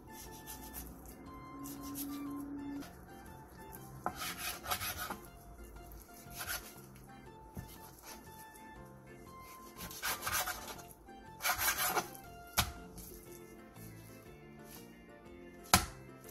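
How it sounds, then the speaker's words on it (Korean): Knife slicing and scraping the skin off a duck breast on a cutting board, soft rubbing strokes with intermittent louder cutting scrapes, close and fairly quiet. "화면처럼 칼을 이용해 오리 가슴살의 껍질을 제거해 주세요."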